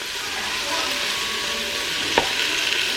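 Seasoned meat browns in a Ninja Foodi with a constant, even sizzle. A single utensil clunk sounds near the end.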